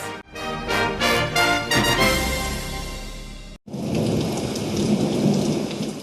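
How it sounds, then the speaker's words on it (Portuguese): Heavy rain pours steadily while loud thunder cracks and rumbles, first in a series of sharp bursts, then after a brief break in a dense, continuous downpour. "As chuvas chegaram"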